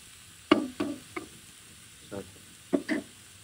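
Chicken frying in a pan in a home kitchen and being stirred, giving a few separate scraping, sizzling strokes with short pauses between them, close by and moderately loud, with no talking.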